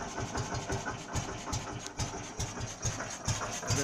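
A 1961 Heinkel Tourist 103A2 scooter engine idles at low revs with a quick, even, pulsing putter and no voices.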